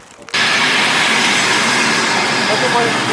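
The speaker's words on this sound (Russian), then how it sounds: "ждем поезд вот с этой стороны и поедем на эту сторону." Train pulling into a station platform, a loud, steady broadband rumble and rush of wheels and air that swells in abruptly after a brief quiet start and holds constant to the end.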